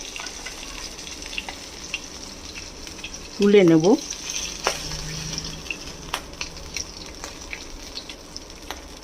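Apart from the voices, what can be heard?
hilsa fish frying in a pan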